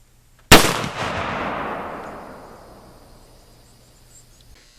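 A Thompson Center Scout black powder pistol loaded with 50 grains of Alliance Black MZ fires one loud, sharp shot that rolls away into a long, fading echo outdoors.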